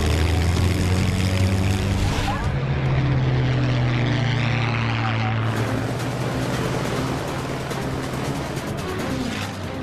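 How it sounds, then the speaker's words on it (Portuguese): Unlimited-class propeller race planes take off and fly overhead as six aircraft climb into the air, a loud droning engine roar with a strong steady hum that swells and shifts in pitch as they pass, no voices. "Com os 6 aviões no ar"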